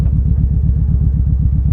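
A motorcycle being ridden: a steady, close, loud low engine rumble with an even pulsing throb throughout, with no voices.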